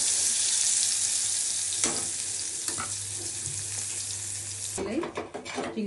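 Prawns frying in oil in a pan, with a steady sizzle broken by a few clattering stirs, ending in a burst of louder crackling and scraping.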